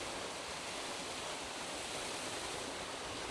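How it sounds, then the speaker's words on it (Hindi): Water flows through an irrigation channel near Ranikot Fort in Sindh, a continuous, even rushing sound, fairly soft and close, with no voices over it. "यहाँ से ये पानी जा रहा है"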